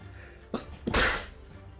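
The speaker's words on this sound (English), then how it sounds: "I just dabbed while sneezing" A single person's sneeze: a short sharp intake followed by a louder, breathy burst, close and alone against quiet room noise.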